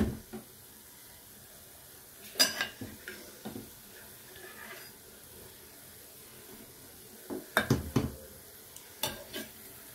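Kaimati dumplings frying in oil and being stirred, a soft low sizzle broken by a few sharp scrapes and taps of a utensil against the pot.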